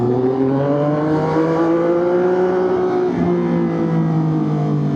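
A Triumph 675SR motorcycle pulls hard in second gear to overtake, its engine note climbing steadily in a loud, continuous rev heard close up from the rider's position with wind noise underneath.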